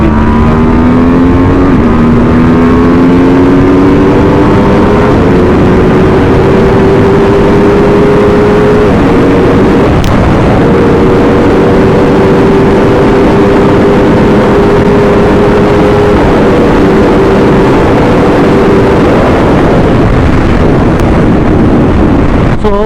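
Aprilia RSV4 1100 Factory V4 sport motorcycle at speed on an open stretch, a loud steady engine drone with rising and shifting pitch across gear changes, buried in heavy wind roar throughout.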